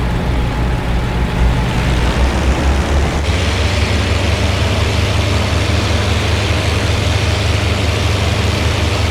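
A P-39 Airacobra's piston engine roars steadily under heavy throttle in IL-2 Sturmovik, a loud, continuous low drone with a slight shift in tone partway through and no talking.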